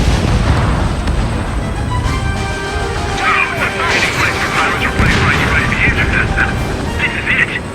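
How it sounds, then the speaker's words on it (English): Missile launch and blasts in Ace Combat 7, a loud continuous roar of booms and rumbling explosions with radio voices talking over the din. "missile launched"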